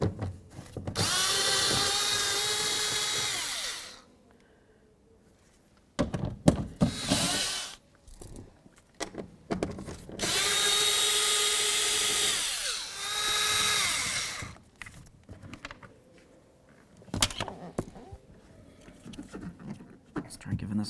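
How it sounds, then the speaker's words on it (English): A power drill spins out the 10 mm mounting bolts on a latch plate inside a 2007-14 Ford Edge front door, in two long whirring bursts with short ratcheting blips and clicks between them, close and loud. "So using a 10 millimeter, we're going to start removing the mounting bolts for this plate."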